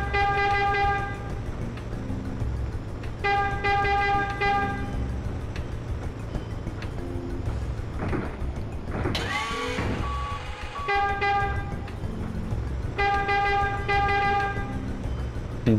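Vehicle horn honks in the Shenmue video game on PS4, sounding in repeated bursts of bright, sustained tones with short gaps between, loud over a steady rumbling engine bed and scattered street noise, with no talking.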